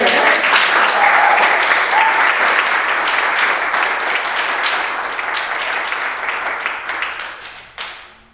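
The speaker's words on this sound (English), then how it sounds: "So a round of applause." Audience applause fills the room after a public talk by an artist, dense steady clapping from a crowd that holds strong for several seconds, then thins and tapers off near the end.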